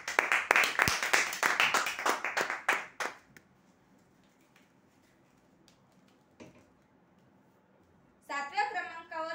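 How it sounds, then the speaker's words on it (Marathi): A small crowd at a weekly customer prize draw claps for an office chair winner, a brisk burst of clapping lasting about three seconds before dying away, followed by quiet and then a voice speaking. "जोरदार टाळ्या त्यांच्यासाठी."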